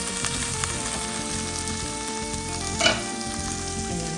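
Meat for a bolognese sizzles steadily in a hot pan while being mixed, a constant frying hiss with a brief louder scrape of the utensil near the end.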